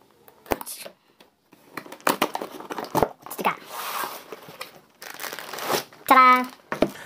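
Packaging on a newly delivered electric iron box crinkles and rustles in irregular bursts as it is unwrapped, with brief pauses between handling noises and one short squeaky tone near the end.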